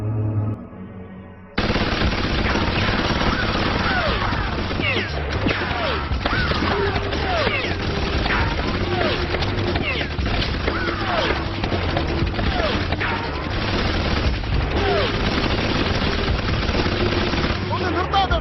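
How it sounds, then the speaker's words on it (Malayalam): Sustained rapid-fire gunfire in an animated action film, loud and close, with dense overlapping bursts, occasional crashes and mechanical clatter continuing without pause. "ഒന്ന് നിർത്താതെടാ, വെടിവെച്ചുകൊണ്ടിരിക്കടാ."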